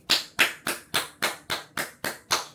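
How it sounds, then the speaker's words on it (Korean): Hands clap nine times at an even, brisk pace, each clap sharp and close, with short silent gaps between them and no talking. "같이 박수 한번 치시죠"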